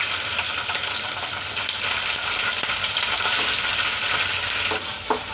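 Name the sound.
paneer frying in pan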